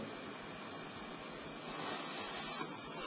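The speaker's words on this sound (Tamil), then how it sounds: "இப்ப ஊதுனா வெளியில நம்ம ஸ்ப்ரேல வர மாதிரி தண்ணி வரும்" Water atomized into a fine spray by blowing hard through a straw, a steady breathy hiss that swells louder partway through and keeps going alone without talk.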